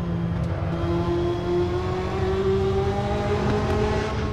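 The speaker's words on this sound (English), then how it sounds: "Tap on the brakes, downshift to third." Race car in a racing simulator, heard from the cockpit under braking while downshifting to third; a steady, loud engine drone with a rising whine runs unbroken through the whole stretch.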